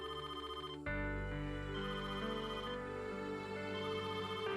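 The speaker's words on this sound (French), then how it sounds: "tu peux répondre au téléphone" A telephone rings with a steady electronic tone, loud and close, repeating without pause and with no one speaking.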